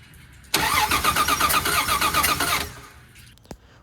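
A 1979 Volare wagon engine that sat four years in a junkyard cranks and catches, roaring loudly and steadily for about two seconds before cutting off abruptly, followed by a faint click, close and alone.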